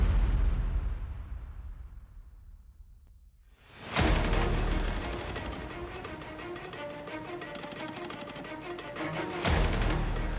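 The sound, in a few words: construction noise while a TV set is built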